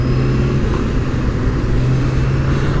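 Dense, steady car traffic roars continuously around a Kawasaki ZX6R motorcycle on a busy city expressway, with loud, close engine and road noise and no speech.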